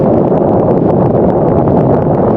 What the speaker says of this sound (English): these big gusts of wind like this